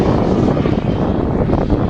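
A radio-controlled model airplane engine flies at a club show at Catton Hall, a loud, continuous buzzing drone held steadily throughout without pause.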